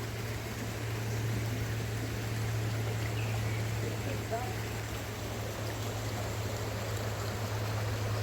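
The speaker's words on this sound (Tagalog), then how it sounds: "Ito pala ilog oh." A river flows steadily past a hidden resort in Maragondon, Cavite, a constant broadband rush of water with a low hum beneath it, while a voice speaks briefly over it.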